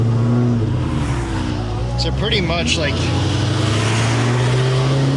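A cammed Terminator Cobra engine lugs while the car climbs uphill in heavy Christmas traffic, a loud steady low drone from the cabin with a brief rise in pitch midway as someone talks over it.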